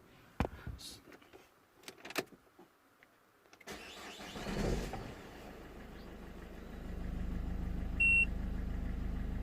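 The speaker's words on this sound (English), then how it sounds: "So if I start the car, let me just do this." A few clicks and thumps, then a Peugeot 3008 engine cranks and catches, settling into a steady low idle with a short beep; the car has its airbag warning light on.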